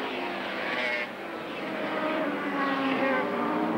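A production Suzuki GSX 750 racing motorcycle in a 1985 Formula 1 road race, its engine droning steadily and loudly at high revs throughout, with a slight dip in pitch partway through as it passes.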